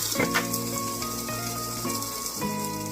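Salted okra is stirred and roasted in a covered pan, giving a close, continuous crackly sizzle with a light rattle throughout and a faint steady tonal hum underneath.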